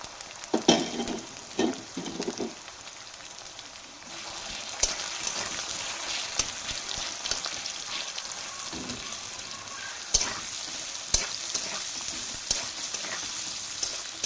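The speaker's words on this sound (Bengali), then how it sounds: "তাহলে এগুলো একটু আগে লাল লাল করে ভেজে নিই" Thinly sliced potato and onion fry in hot oil for chowmein, a steady close sizzle with occasional stirring clatters and sharper spatters throughout.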